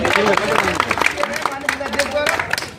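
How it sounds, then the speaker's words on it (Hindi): A crowd at a village public meeting (jan chaupal) in Harharpur Matkali, Nawabganj, Bareilly, claps in a quick, scattered burst, partly masked by people talking. "एक बार जोरदार तालियां कर दें इरशाद भाई के लिए।"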